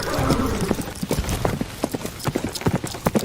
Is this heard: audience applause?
no